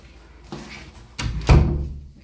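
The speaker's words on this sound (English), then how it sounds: "shut all the doors, which is amazing" A few doors in a house under renovation close one after another, with soft thuds building to a louder, heavier shut near the end, close by with no talking.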